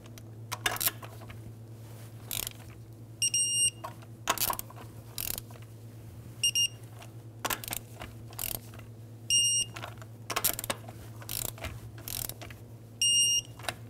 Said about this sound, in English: You're going to torque it in star pattern.